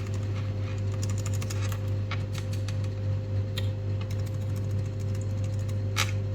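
Keys being pressed on a MacBook Pro 14 M1 A2442 keyboard, a run of light, quick clicks and taps over a steady low hum, irregular in rhythm and close by.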